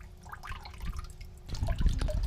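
Water trickling and gurgling out of the bottom of an aquaponics siphon pipe, quiet and close, with the flow growing busier and louder partway through.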